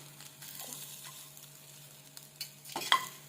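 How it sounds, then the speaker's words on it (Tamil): Chicken masala is stirred in a pan with a faint sizzle, and the spoon scrapes softly before a couple of louder clinks near the end, with a steady low hum in the background. "நம்ம வந்து கிண்டி விட்டுக்கலாம்."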